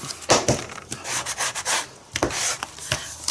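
A sanding block rubs back and forth in quick, uneven scratchy strokes, close and alone.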